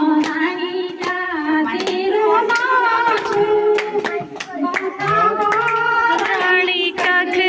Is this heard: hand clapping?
yes